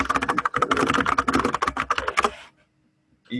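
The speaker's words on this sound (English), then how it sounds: "let me type it out" Rapid typing on a computer keyboard, dense close clicking for about two and a half seconds before stopping into near silence.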